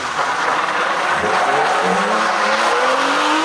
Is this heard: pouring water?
no